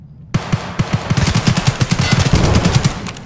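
Loud, close automatic gunfire from a video game shooter starts abruptly after a short silence and continues as a rapid, steady rattle of shots to the end.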